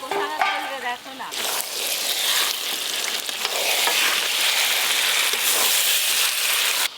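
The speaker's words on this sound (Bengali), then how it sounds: "মশলা কষানোর সাথে সাথে সেদ্ধ করে রাখা খাসি মাংস দিয়ে খুব ভালো করে আবার কষিয়ে নেব।" Boiled mutton fries with spices in a hot wok, a loud, close, crackling sizzle with stirring scrapes throughout, briefly broken by a short voice at the start.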